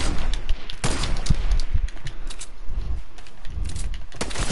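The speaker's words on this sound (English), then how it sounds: "you're getting shot at now" Gunfire in the Fortnite video game: dense bursts of rapid shots and sharp cracks, loud and close, continuing throughout with brief gaps.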